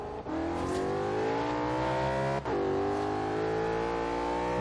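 Audi RS4 engine in Forza Horizon 3, a lowered stance build, holding a loud, continuous rev that climbs steadily in pitch, with a brief dip midway before rising again, smooth and droning with no voices.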